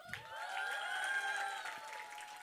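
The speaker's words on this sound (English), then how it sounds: "Who votes for the love story? Shout and clap and make noise." An audience at a live performance shouts, cheers and claps together to vote for a love story, a sustained burst of crowd noise with high, held voices rising over the clapping.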